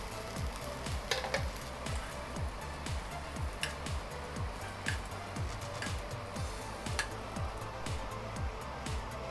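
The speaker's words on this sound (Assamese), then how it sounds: "এয়া হৈছে নিমখ হালধি দি ভাজি লোৱা মাংস" Chicken meat seasoned with salt and turmeric frying in a wok for pickle, a continuous close sizzle with regular scraping strokes of a spatula stirring the pieces about every half second.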